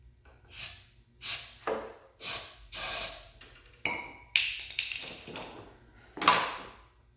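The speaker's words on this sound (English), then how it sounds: "Try a little starter fluid." An aerosol can of starter fluid sprayed onto an old lawnmower, a series of about eight short hissing bursts in an uneven rhythm, close and fairly loud with no talking.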